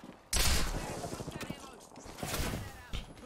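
Loud shotgun and rapid gunfire in the video game Apex Legends, a heavy blast followed by a quick rattling burst and another shot, all up close, with voices talking among the shooting.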